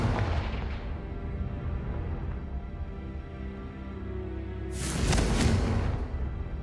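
A Confringo fire spell explodes in Hogwarts Legacy, a deep rumbling boom underneath, then a loud broadband burst about two-thirds through that tails off, with no talk.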